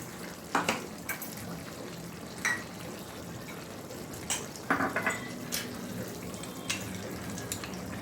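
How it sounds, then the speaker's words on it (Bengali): Rinse water from a blender jar that held ground mustard, poppy seeds and green chili is poured into a kitchen pan, giving soft splashing and trickling with a few clinks of the jar against the pan. "সেই জারটা ওয়াশ করে জলটা দিয়ে দিচ্ছি"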